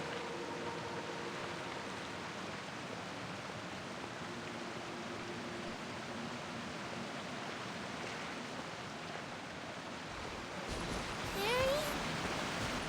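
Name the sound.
rain falling in the video game Genshin Impact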